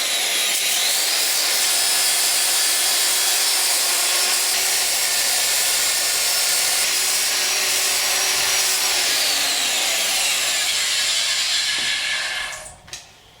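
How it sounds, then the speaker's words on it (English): Continuous grinding and rubbing of a flap wheel smoothing scratches on Honda Trail 90 motorcycle foot pegs, a steady loud abrasive whir with shifting tones that winds down and stops near the end. "use my flappy wheel to smooth out some of these unsightly battle scars"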